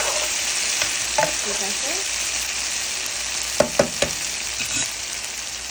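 Dried fish and eggplant fry in a pan with a steady, bright sizzle, joined by a few scraping stirs and utensil clicks, while someone speaks briefly.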